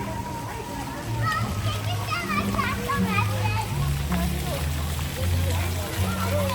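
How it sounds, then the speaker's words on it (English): Children play and shout in the water of a resort splash park, with constant splashing and spraying beneath a steady adult voice. "It's a splash park with Moana on that outrigger."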